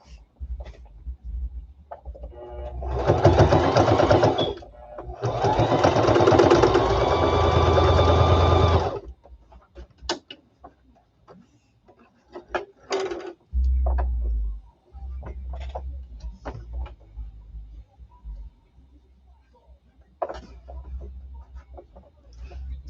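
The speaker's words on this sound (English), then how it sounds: "we're going to do a top stitch all the way around." A sewing machine top-stitches around the edge of a cloth face mask in two long steady runs, followed by quieter handling, brief stitch bursts and a low hum.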